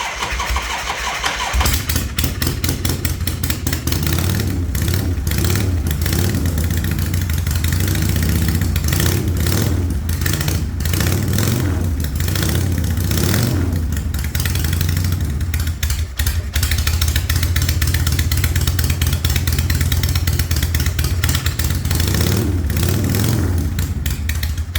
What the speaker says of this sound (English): Just the glorious, ear-splitting wail of an Ironhead engine that sounds like freedom mixed with horsepower.